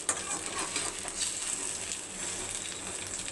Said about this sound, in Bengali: এখন আম্মু ডিমটা ভাজতেছে